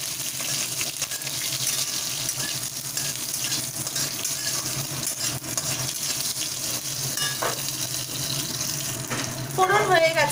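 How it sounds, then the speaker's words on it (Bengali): Black mustard seeds and a couple of green chillies crackle and hiss steadily in hot oil, a continuous close sizzle that stays fairly even for the whole stretch. "দিচ্ছি সামান্য কালো সর্ষে ফোড়ন এবং দুটো কাঁচা লঙ্কা"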